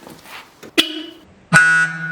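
Car horn of an Opel Corsa B, sounded twice: a short honk, then a longer steady blast with a brief quiet gap between them, loud and close.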